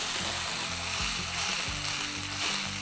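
Fresh tomato puree sizzles and splutters in a hot pan with spices while cooking methi muthiya curry, a steady, moderately quiet frying hiss with faint low clunks of stirring.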